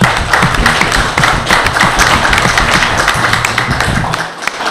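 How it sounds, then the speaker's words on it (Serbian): Applause at a primary school's end-of-year ceremony, a dense, steady wash of clapping from a large crowd that holds loud throughout and fades slightly at the end. "jedan aplauz za njih"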